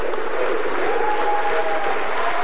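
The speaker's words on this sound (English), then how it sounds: "Sends this huge crowd in Tacoma into a frenzy." A huge arena crowd at a professional bowling tournament in Tacoma erupts after a perfect 300 game, with sustained loud applause and cheering and a few rising shouts above the steady roar.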